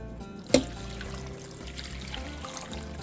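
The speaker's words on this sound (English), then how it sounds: "So now to this I'm just gonna add some water." Water is poured into a crock pot holding pork shoulder and potatoes, starting with a sharp splash and followed by a steady, close trickle and gurgle with no talk.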